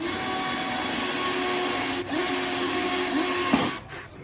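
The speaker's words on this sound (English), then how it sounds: "Now I'm going to drill and tap the 2 holes on the sides for the" A drill boring small holes for 6-32 screws during a hardware installation, a steady high-pitched whine that runs continuously, briefly dips near the middle, then cuts off at the end.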